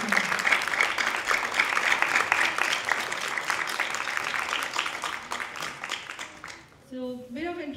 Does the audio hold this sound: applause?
yes